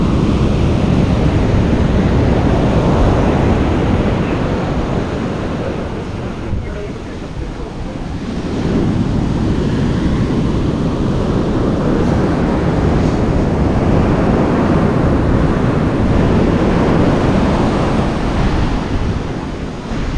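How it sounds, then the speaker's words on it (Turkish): Strong ocean waves surge and crash into a hidden cove on Bali, a loud continuous roar that swells and eases, with wind buffeting the microphone throughout. "çok kuvvetli dalgalar var şu an."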